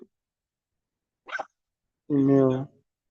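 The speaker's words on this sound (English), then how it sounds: "Sorry for the dog." A dog barks once or twice in the background during a software tutorial, a short sharp bark close by followed by a louder sustained yelp, with someone talking around it.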